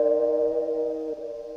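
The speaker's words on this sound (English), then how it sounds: "found this pluck that I really liked" A synth pluck in a beat rings out as a sustained, reverb-drenched mid-pitched tone that holds steady and fades slightly, heard alone without voices.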